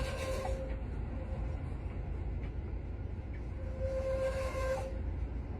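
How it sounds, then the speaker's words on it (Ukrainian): A tram rolls along city tram tracks near a car on the road, giving a steady low rumble with tonal squeal from the wheels and rails that rises near the end. "І тоді трамвайчик бачить, що він може собі проїхати."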